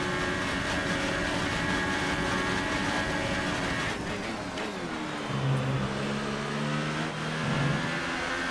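A Formula 1 car engine in F1 2018 screams at high revs, a steady loud whine that dips briefly and then climbs again through gear changes, with no voices over it.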